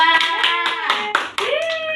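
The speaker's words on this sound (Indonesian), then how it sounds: "Tepuk tangan untuk kelompok 2." Students in a classroom clap for a presenting group, a few sharp hand claps in quick succession over about two seconds, with voices carrying a tone over them.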